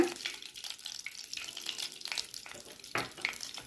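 Cumin seeds fry in ghee in a pan on a gas stove, giving a soft, steady crackling sizzle with occasional sharper pops, close and quiet, with no one speaking.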